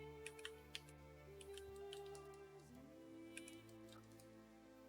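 Quiet typing on a computer keyboard, irregular clicks and clacks tapping away under a steady background hum and soft music.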